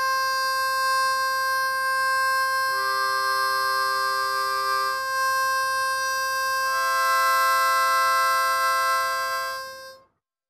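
Sustained single notes on a harmonica hold steady for several seconds each, shifting between neighbouring holes so the pitch steps up and then back. The tones are loud and clean with no talking, then cut off abruptly.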